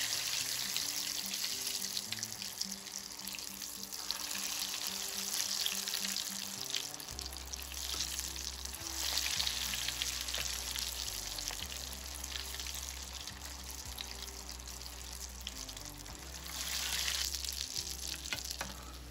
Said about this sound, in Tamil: நாம் ஒன்றொன்னா போட்டு இதில் பொரிச்சிடலாம்.